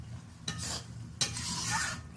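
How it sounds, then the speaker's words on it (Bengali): Ground spices frying in a pan for a cauliflower and potato curry, a steady low sizzle with two bursts of brisk scraping as a spoon stirs, close and without voices. "এবার এরই সাথে দিয়ে দিলাম। একটু ভালো করে নাড়াচাড়া করে নেব।"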